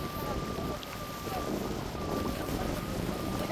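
Steady wind buffets the microphone at sea during cast-net fishing from a boat, a constant broadband rush that continues through the whole stretch while people talk over it.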